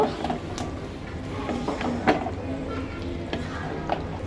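Beef pieces go into a pan of spiced masala and are stirred, giving a soft sizzle with scraping and clinking from the spoon, close by and moderately loud.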